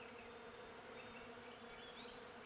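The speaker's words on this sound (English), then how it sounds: "it sounds like there's a bee's nest or something," Bees buzz steadily in a faint, continuous drone from a hive, heard from a distance outdoors in summer, with no voices.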